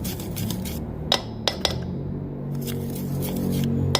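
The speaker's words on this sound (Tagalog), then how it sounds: "So, you just need to mix it together." Cheese muffin batter mixed in a bowl, soft wet stirring with a few sharp clinks of utensil against the bowl, close and steady, no talking.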